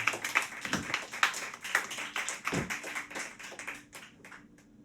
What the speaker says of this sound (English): Round of applause for Peter, one of the house bandmates.